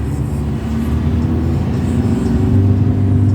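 A car's engine revs up steadily as the accelerator is pressed from a near stop with the clutch half engaged during a driving lesson on a practice track, a loud, continuous rumbling drone that rises in pitch toward the end.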